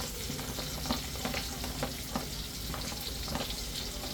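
Garlic and onion sauté in a pan for misua soup, a continuous close sizzle broken by several sharp stirring clicks and scrapes at an uneven rhythm.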